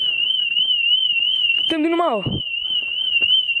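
Continuous high-pitched electronic alarm beeping indoors in a house, loud and unbroken throughout, while a person's voice speaks briefly over it in the middle.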